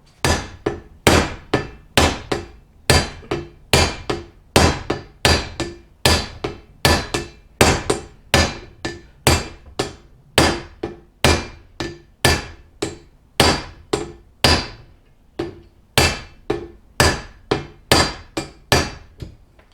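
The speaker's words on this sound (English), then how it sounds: "try and use a hammer and hammer these down in a couple of different points here" A hammer strikes a steel bearing race being driven into a motorcycle steering neck, over and over in a steady, fairly quick rhythm, each blow sharp and close, with brief pauses between short runs.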